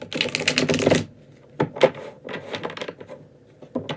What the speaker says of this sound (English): Let me just shuffle this deck. I'm so sorry it's so loud.